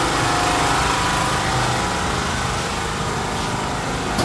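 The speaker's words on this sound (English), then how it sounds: "lorries, lorries, lorries" Heavy lorry engines rumble and drone nearby at a building materials market in Lagos, Nigeria, in a dense, continuous wash of motor noise.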